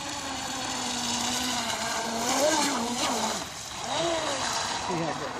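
A Hobbyking Hydrotek F1 self-righting RC boat runs on water, its electric motor whining loud and steady with rising and falling pitch as it speeds up and turns, while people talk over it.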